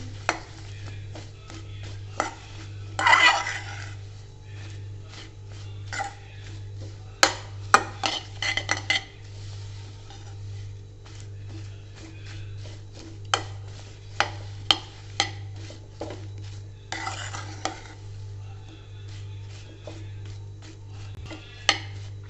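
Fox nuts being tossed in a jaggery coating with fennel and carom seeds, in a pan with the gas turned off: a sparse series of sharp spoon clicks and scrapes against the metal, with brief rattling bursts over a low hum.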